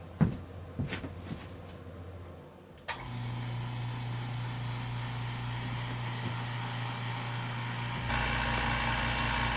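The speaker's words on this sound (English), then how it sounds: "I'll turn on the compressor." An air compressor feeding a fog buster coolant mister on a Tormach 770 mill switches on abruptly after a few light clicks and handling knocks, then runs with a steady, loud droning hum that rises slightly near the end.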